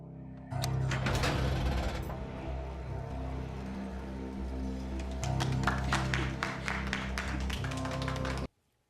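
A few sharp claps tap out over a steady, droning musical score in the horror film Annabelle Creation, fairly close and crisp against the low sustained tones before the sound cuts off abruptly.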